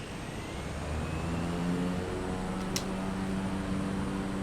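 Steady airplane engine drone in a flight simulator, a bush flight leaving Bruny Island in Tasmania, a constant close hum at takeoff power holding level throughout with no talk.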